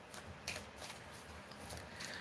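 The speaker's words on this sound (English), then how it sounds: "Let me shuffle the affirmation, give y'all this positive affirmation." Affirmation cards being shuffled by hand, a quiet series of soft riffling bursts and flicks close to the microphone, with no voices.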